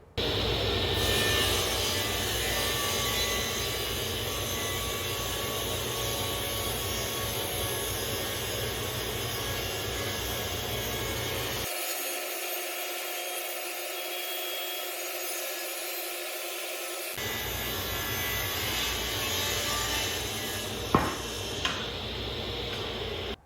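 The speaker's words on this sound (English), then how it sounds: "let's take a break from just talking and actually cut some wood. Might as well go big with a piece of 8/4 hard maple" A budget table saw rips through a thick 8/4 hard maple board, a loud sustained whine and grind with no talk. It changes pitch partway through, then settles back to the steady run.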